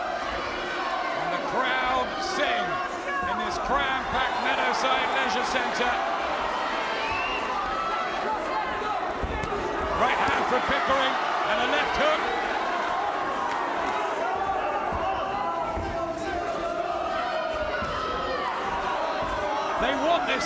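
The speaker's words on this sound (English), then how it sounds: "And the crowd sing in this cram-packed Meadowside Leisure Centre" A crowd packed into Meadowside Leisure Centre sings through a British 122lb title boxing bout, a dense, steady wall of massed voices and hall noise that holds for the whole stretch, with scattered cheers and thuds mixed in.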